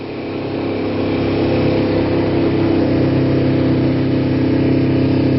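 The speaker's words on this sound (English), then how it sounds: "I let the engine get warmed up" A Kawasaki Ninja 250 motorcycle idles after a cold start with the choke on, a steady, close, even engine drone that rises slightly in level and holds constant without any voices.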